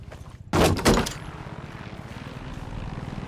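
A helicopter in the video game Far Cry 6 drones in the background with a low, steady rotor hum, briefly covered by a loud burst of nearby game noise, and nobody speaks.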